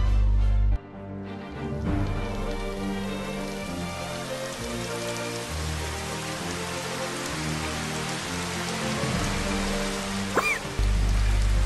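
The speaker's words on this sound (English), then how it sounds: "First I'm going to turn off the rain" Steady rain in Final Fantasy XV patters across a surface, with a continuous wash of droplets under a low musical hum; it cuts off abruptly near the end.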